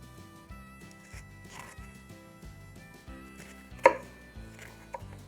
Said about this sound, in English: Okay, let's chop up our onion.